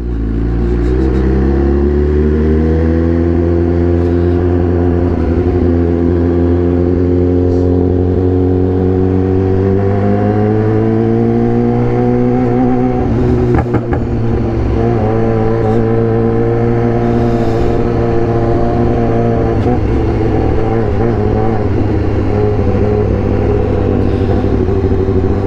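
A BMW S1000R motorcycle cruises through a city centre, its engine droning steadily at close range with a smooth rise in revs as it accelerates, then holding a constant rumbling hum with faint passing traffic.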